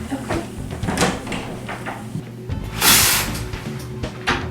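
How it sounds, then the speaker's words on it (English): A door opening in a house during a reality competition show, heard as a short clunk and creak with a brief burst of handling noise partway through, set against faint room sounds and movement. "this time I'm going to ask you to go through this door"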